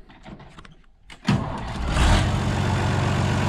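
Tractor engine on a site levelling ground, a few faint knocks before the engine catches and rises into a loud, steady mid-pitched running drone close by.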